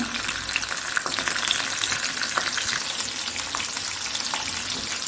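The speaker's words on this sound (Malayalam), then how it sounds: "ഒരു സ്പൂൺ കടുകിട്ടു ഞാൻ അതിൻ്റെ കൂടെ തന്നെ ഞാൻ ചെറിയ ഉള്ളി ചെറിയ പീസായിട്ട് കട്ട് ചെയ്തെടുത്തത് അതും ഇട്ട് കൊടുക്കാണ്" Mustard seeds and finely chopped shallots fry in hot oil for an Angamaly-style mango curry, a close, constant bright sizzle with small pops and crackles throughout and no talk.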